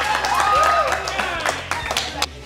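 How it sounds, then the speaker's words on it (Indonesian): Audience applause breaks out at a village youth quiz event in Bali, dense clapping running steadily throughout with sharper individual claps near the end, while background music and voices carry on underneath. "Tepuk tangan yuk."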